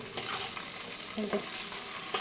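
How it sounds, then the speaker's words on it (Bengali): Paneer fries in a pan with a continuous bright sizzle, while a utensil stirs it with a few scraping knocks. "পনিরটা এখানে ভাজা বসিয়ে দিচ্ছি।"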